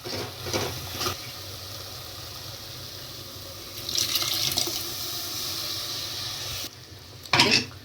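Water runs in a steady stream into a pot of rasam being cooked in a home kitchen. The flow surges louder for a few seconds, and brief splashes and clatters come near the start and the end.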